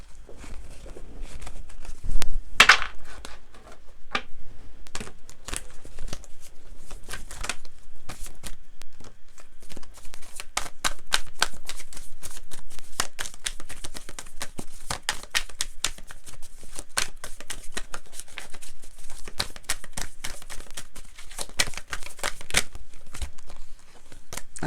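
Oracle cards shuffled by hand for a tarot-style reading, giving a dense, continuous run of quick papery riffling and flicking close by, with a louder burst near the start.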